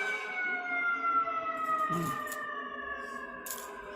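A siren wails steadily in the distance, its sustained tone holding through the whole stretch, with no talking over it.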